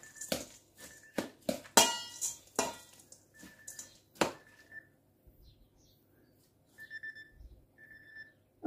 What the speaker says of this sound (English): Oh, that's my alarm going to tell me I've got a client in 10 minutes.